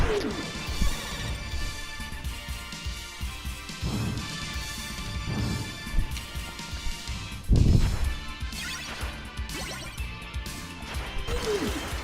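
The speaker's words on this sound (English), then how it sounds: "we got the behemoth crashing through the wall" In Castlevania: Rondo of Blood, a behemoth smashes through a wall with a series of heavy crashing impacts, the loudest landing around midway, all over steady game music.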